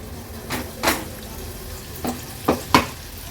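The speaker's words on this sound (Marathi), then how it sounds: "वाटण तेलावर थोडंसं परतून घ्यायचे।" Ground masala paste sautés in a little hot oil in a kadhai over a low flame; a few brief scraping, sizzling stirs come at irregular intervals over a quiet background.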